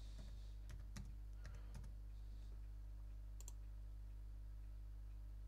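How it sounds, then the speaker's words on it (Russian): A handful of faint, quick key clicks on a computer keyboard, pressing the Alt and F4 combination, come in short bursts over a low steady hum in a quiet room. "какую комбинацию вам нужно набрать. Это комбинация Alt плюс F4"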